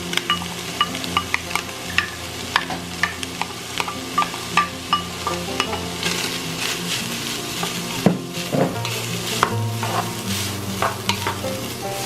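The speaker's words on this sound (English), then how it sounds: "Now I'll add a large onion that I chopped up" Chopped onion is stirred into browned 85% lean ground beef in a pot: a soft steady sizzle under repeated scraping and clinking of a spoon, close by, with a couple of sharper knocks.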